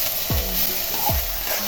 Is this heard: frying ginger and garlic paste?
yes